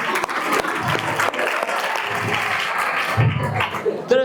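An audience at a student religious talk claps for a boy named Fajar, a dense, sustained round of applause lasting several seconds, close and fairly loud, with scattered voices mixed in.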